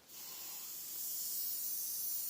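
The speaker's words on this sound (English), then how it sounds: "give it another good spray" A close, hissing spray from an aerosol can in a scenic modelling workshop starts and holds steady for a couple of seconds, growing slightly louder.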